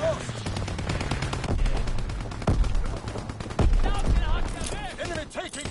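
Rapid gunfire crackles through a WW2 battle game, with bursts of automatic shots and sharp single cracks layered over a dense combat din, while radio-style callouts and voices talk throughout.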